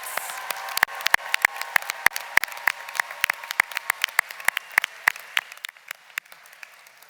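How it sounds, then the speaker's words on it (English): A graduation ceremony crowd applauding, with sharp uneven claps close by over a wash of distant clapping that fades toward the end. "Can we please get a round of applause for our Bachelors of Arts graduates?"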